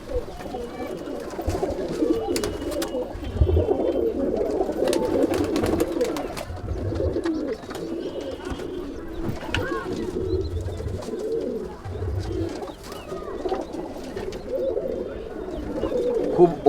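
About a hundred and fifty Madrasi pigeons fill a loft with continuous overlapping cooing, a rolling chorus heard close by, with occasional faint talk.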